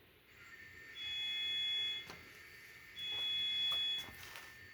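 A Kato N scale SD70M model locomotive with an ESU LokSound V5 decoder playing an EMD 710 diesel sound file hums and idles, sounding two long high-pitched electronic tones, each about a second, over a faint mechanical rumble.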